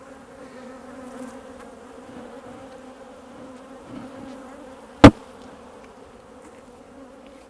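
A mass of honey bees hums in a brood box after frames were removed, a sustained, pitched drone of many insects close up, broken once by a single sharp tap.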